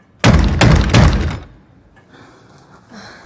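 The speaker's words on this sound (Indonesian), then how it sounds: "terganggu oleh suara ketukan pintu yang keras dan tidak terduga" Three loud, heavy knocks pound on a cabin door in quick succession, close and forceful, followed by a quiet, faintly humming room.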